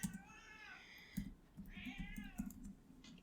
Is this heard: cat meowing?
yes